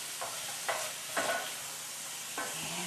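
Chicken pieces for an African-style chicken stew brown in a pan over medium-high heat, giving a steady hiss and sizzle broken by a few brief scrapes of stirring.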